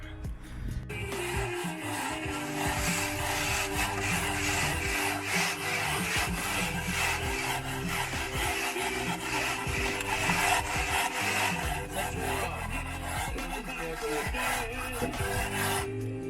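Fresh render on a house wall is scratched up with a hand tool in steady, continuous rasping strokes, close and fairly loud, with no talking over the rough scraping.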